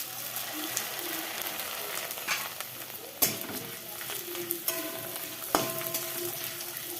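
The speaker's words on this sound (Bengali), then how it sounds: "এই যে এখানে ভুট্টার পাঁপড় আছে, এই পাঁপড়টা ভেজে নেব, এই যে তেল দিয়ে দিয়েছি" Corn papad frying in hot oil gives a soft, steady sizzle with crackles and a few sharp clinks of a utensil against the pan.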